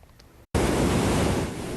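A stream in Hualien, swollen by heavy typhoon rain, rushes past in a loud, dense, continuous roar that cuts in abruptly after a brief quieter moment.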